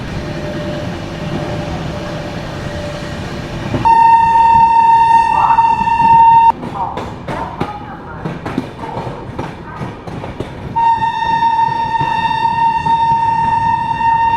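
The Patna Duronto Express runs at night at 130 km/h, its steady rumble and rail clatter carrying on throughout, while a long horn blasts for several seconds, breaks off, then sounds again near the end.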